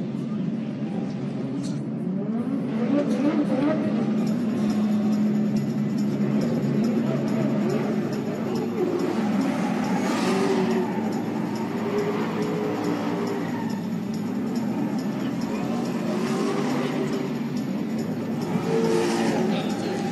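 A Nissan S13 drift car with a twin-turbo V8 roars steadily through the course at Formula Drift Long Beach qualifying, its engine note rising and falling in sweeps while an announcer talks over it.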